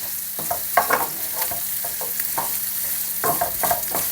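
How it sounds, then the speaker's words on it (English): Kimchi and chunks of Spam fry in a hot pan for kimchi fried rice, with a steady sizzle and repeated scraping stirs of a utensil against the pan, close and fairly loud, with no talking. "By frying the kimchi, you're releasing a whole other world of flavour into the dish"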